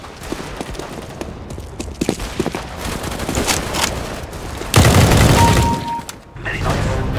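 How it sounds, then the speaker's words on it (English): Gunfire in the tactical shooter game CS:GO, with loud bursts of rapid shots and booming reports. The shots break out in clusters, and a sustained heavy volley comes near the end. "shooting."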